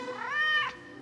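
A single close, clear meow from a cat on the Île d'Yeu, rising and then falling over about a second, heard alone.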